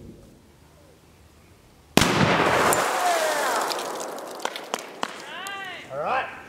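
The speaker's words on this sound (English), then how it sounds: "Almost sounded like two explosions." A Tannerite target explodes during rifle target shooting, a sudden loud boom followed by a long rolling rumble and scattered sharp cracks, with people talking and exclaiming as it dies away.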